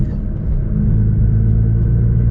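A Nissan GT-R engine rumbles low and steady under light throttle while cruising, a dull continuous drone heard from inside the car with no voices.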